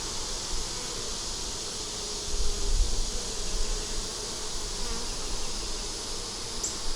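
A dense, steady buzzing of many honey bees close by at an open hive, a continuous droning hum with a faint low thump partway through.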